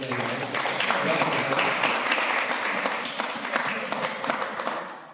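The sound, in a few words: audience applause for a speaker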